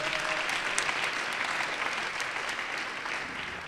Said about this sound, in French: Enfin, ils peuvent s'applaudir